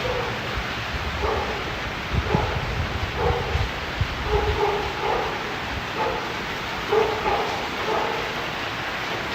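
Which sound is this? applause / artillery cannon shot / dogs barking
dogs barking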